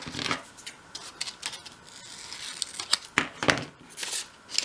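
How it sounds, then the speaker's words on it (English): Paper being trimmed to size while wrapping a piece for a miniature Christmas room box, close crisp snips and papery rustles and crinkles in quick irregular bursts throughout. "And then trim that to size"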